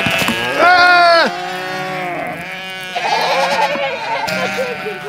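Sheep and goats of Mongolian nomads bleating on open grassland, several loud overlapping calls close by, one long strong bleat followed by more from different animals.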